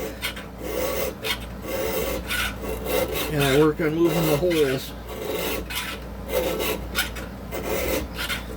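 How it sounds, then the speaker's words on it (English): Repeated rasping strokes of a regular chainsaw file on a metal chainsaw bar, steady and close, with a brief softer rubbing passage in the middle. "I just take a golf ball and a file, regular chainsaw file, and I just go in here"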